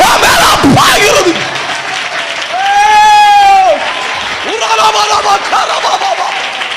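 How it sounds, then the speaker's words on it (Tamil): A church congregation claps along during an energetic Tamil Christian service, with loud, sustained applause under a pastor's forceful, drawn-out shouting and chanting. "தைரியம் இருந்த கைதட்டு"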